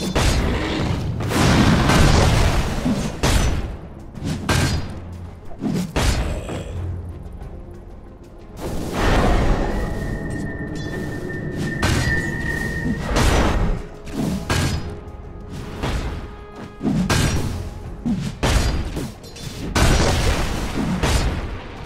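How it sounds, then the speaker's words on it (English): Towers under attack in Dota 2: repeated heavy booms and thudding impacts arrive in clustered bursts with brief lulls, plus whooshing effects and a sustained tone in the middle stretch. "Dire's middle tower is under attack. Dire's structures are fortified. Dire's bottom tower is under attack."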